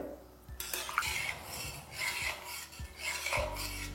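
Chickpeas and masala stirred in a pan for a Bengali chana paneer masala, heard as steady scraping and rubbing strokes of a spoon against the pan, close and fairly loud, with small clinks throughout.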